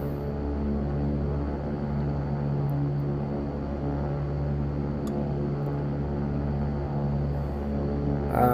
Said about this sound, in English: I can start taxiing.